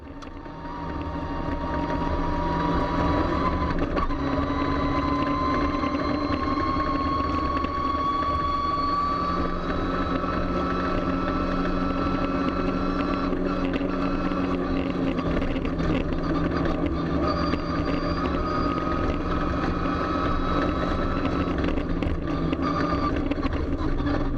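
Onboard a Mitsubishi Evo 10 rally car on a rally stage in Kisumu, a steady loud engine drone with rising and falling revs throughout, no talking.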